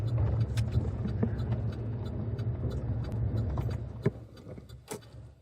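A car cruises through the empty, misty streets of Charlottetown in June, its engine and tyres making a quiet, steady drone. Soft clicks and knocks from inside the cabin are scattered over it.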